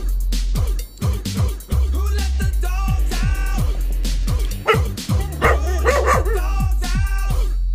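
A female dog reacting to a prank barks and yips again and again in loud, close, rapid bursts, with some whimpering mixed in, over a constant low hum.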